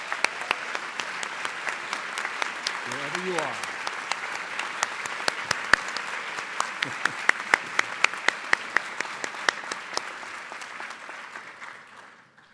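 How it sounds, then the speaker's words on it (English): A graduation ceremony audience gives a sustained round of applause, dense clapping that fills the hall for about ten seconds, then fades out, with a brief voice from the stage near the start. "can we give them a round of applause?"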